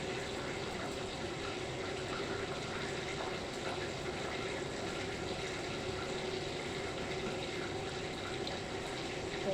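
Water running steadily from a tap in a kitchen while hands are wetted for shaping dates, a continuous soft gushing hiss with no pauses.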